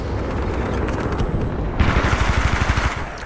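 A gun empties a whole magazine in the Titanfall video game, a rapid string of close, loud automatic shots that grows heavier and more distinct partway through.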